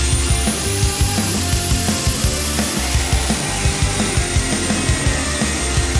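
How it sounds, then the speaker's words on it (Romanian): An angle grinder cuts through a metal pipe being made into a car chassis, with a loud, continuous high-pitched whine over rough grinding rasp. The cut sounds steady, close and unbroken throughout. "după care tai cu flexul."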